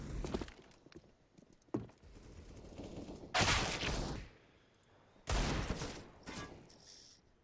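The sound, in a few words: AK rifle gunfire in a video game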